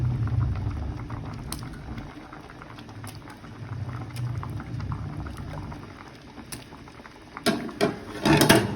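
Fish and eggplant simmering in a pot of water, a steady low bubbling and burbling that continues throughout, with some louder clattering and movement near the end.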